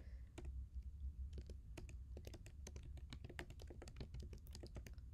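Fingers typing on a computer keyboard, a quick irregular run of crisp key clicks close up over a low background hum.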